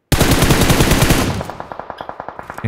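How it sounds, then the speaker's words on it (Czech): Rapid automatic gunfire from above in PUBG Mobile rattles loudly in a dense burst, then continues as a slower string of distinct, evenly spaced shots. "Někdo střílí z vrchu."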